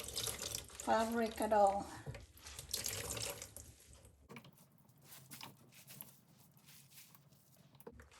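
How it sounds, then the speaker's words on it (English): Water drips and splashes into a sink as a washed crocheted lace blouse is squeezed by hand, fairly close and quiet, with someone speaking briefly. "Squeeze the excess water without wringing the"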